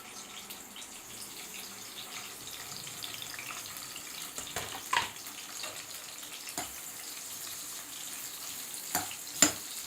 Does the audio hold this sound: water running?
yes